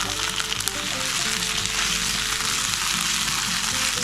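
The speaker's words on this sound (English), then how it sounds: "now we're gonna add our refried beans" Refried beans hit a hot pan and fry with a loud, steady, dense sizzle and crackle that holds unbroken throughout.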